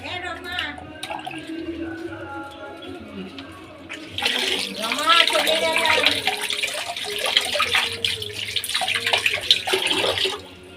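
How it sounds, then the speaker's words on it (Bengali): Bathroom tap water runs steadily over a candy being rinsed by hand, a continuous splashing wash that grows louder and busier partway through, with someone talking over it. "তাও ধুচ্ছি এরকম বাথরুমের জল দিয়ে"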